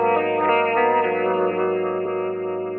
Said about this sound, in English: recreate that cool out-of-tune tape warble style effect that you hear in a lot of lo-fi and modern pop